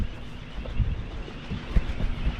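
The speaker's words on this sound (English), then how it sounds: "Running the wind generator." A small wind generator runs on a steel sailboat, giving a steady low hum beneath gusty wind noise and faint knocks, quiet and continuous throughout.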